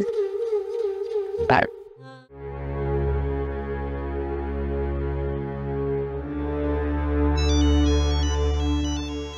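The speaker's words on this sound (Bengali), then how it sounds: "ফোন বাজতেছে না আমার?" A mobile phone ringtone plays loudly and steadily, a looping electronic melody following a short burst of other sound at the start.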